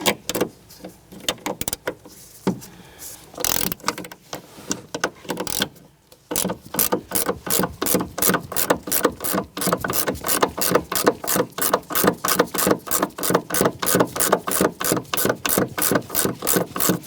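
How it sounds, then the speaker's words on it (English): 15mm gear wrench ratcheting on the nuts atop a rear strut of a 2006-2013 Chevrolet Impala: scattered clicks first, then a fast, regular run of close ratchet clicks that carries to the end. "we're going to go ahead and switch over to our 15mm gear wrench. We want to go ahead and remove the 3 nuts on the top of the strut here"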